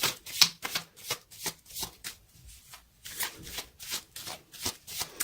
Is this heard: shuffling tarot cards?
yes